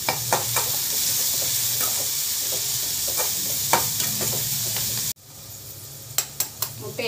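Capsicum sautéing in a pan makes a steady hissing sizzle with frequent clinks and scrapes of a stirring utensil, then the sizzle drops away abruptly, leaving quieter clicks and taps.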